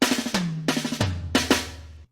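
Quick five-stroke drum rolls tumble down across the toms in short bursts, each flurry landing with an accent before the next, ending abruptly.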